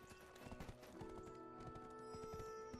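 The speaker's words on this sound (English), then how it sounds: "Your horse should follow you." Horse hooves clip-clopping in the online game Black Desert as a mount approaches, a steady rhythmic trot growing slightly louder over a busy layer of game ambience and music, with a brief whinny.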